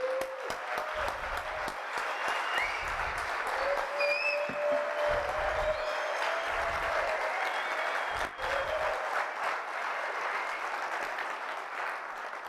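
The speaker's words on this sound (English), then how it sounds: "please give a round of applause for our captain of our ship" Audience applause at a legal talk fills the room with steady, sustained clapping from a seated crowd, even and continuous from start to finish without voices.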